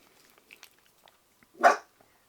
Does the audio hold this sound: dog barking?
yes